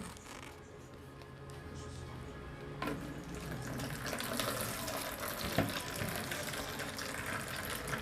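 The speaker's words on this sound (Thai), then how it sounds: "เดี๋ยวเรามาเทน้ำออกกันค่ะทุกคน" Hot water poured out of a cup of instant yakisoba into a sink, a steady splashing drain with a brief clatter partway through, close and fairly loud.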